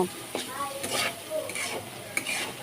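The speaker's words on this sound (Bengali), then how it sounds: "এখন ডিমের সঙ্গে আলু করলাটাকে এভাবে দুই মিনিটের মতো একটু ভেজে নিব" Egg, potato and bitter gourd fry in a pan while a spatula stirs and scrapes in repeated strokes, with steady sizzling underneath and no talking.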